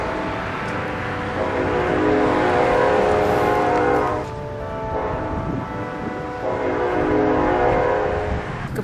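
A train rolls past in Baxter Springs, Kansas, along Route 66, its horn sounding in long loud sustained blasts over the rumble of the cars.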